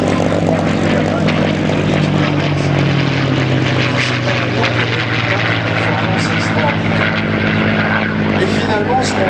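A P-51 Mustang propeller fighter plane drones loudly and steadily at the La Ferté-Alais air show in 2013, its engine note holding close and continuous with a brief swell near the start.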